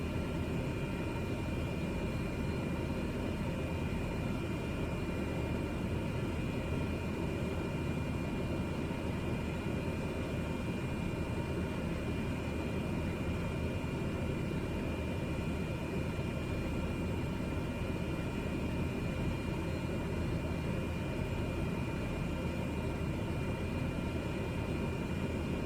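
Cessna 208B Caravan taxiing in Microsoft Flight Simulator 2020, a steady droning turboprop hum with broad whooshing noise, constant and unbroken throughout at an even moderate level.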